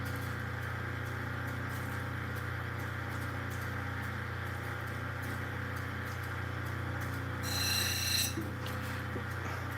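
An Ethiopian opal stone is being sanded with a steady, continuous grinding rasp over a low machine drone, with a brief brighter hiss near the end.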